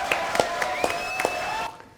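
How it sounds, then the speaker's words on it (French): A studio audience claps for Ludmilla, with sparse, fairly regular hand claps about every quarter second over a steady hum and a faint tone, fading out near the end. "applaudissements pour Ludmilla"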